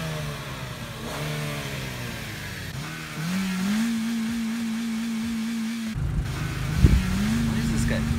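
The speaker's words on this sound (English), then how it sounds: "This guy just loves revving at everyone even though they have a stock car" A stock car engine revs repeatedly, rising to a sustained high held note and then revving again, loud and close, with a voice talking over it.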